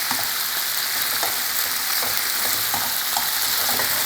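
Chicken pieces frying in a hot pan, a loud, steady sizzle with faint crackles and pops throughout, close up with no talking.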